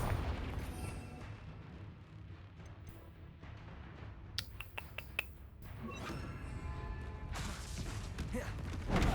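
Bombarda and Confringo explosion spells in the Hogwarts Legacy video game go off as a run of sharp, rapid bursts midway, followed by rumbling blasts and rising effects noise toward the end.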